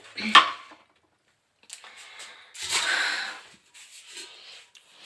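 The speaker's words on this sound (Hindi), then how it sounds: "खटक खटक के बर्तन जब खटकेंगे तो आवाज़ तो आएगी ही" Metal utensils clink and rub together in a home kitchen, with one sharp bright clink followed by quieter scraping and rattling after a pause.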